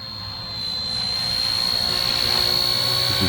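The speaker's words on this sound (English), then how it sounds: "See how quiet and smooth this helicopter is." A model helicopter hovers in place with a smooth, steady high-pitched whine and rotor hum that swells slightly as it lifts, heard close and alone without talk.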